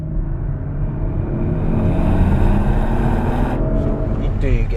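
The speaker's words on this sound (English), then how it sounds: "The exhaust definitely feels louder, but you need to put it in either RS1 or better still RS2 mode" An Audi RS 4 Competition twin-turbo V6 in RS mode, its exhaust a loud, steady deep drone with rising engine pitch, heard close from the car under acceleration.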